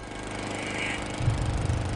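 A lawn mower runs continuously nearby in the early morning while a yard is being cut, giving a steady droning engine buzz that grows slightly rougher and louder toward the end, with no voices.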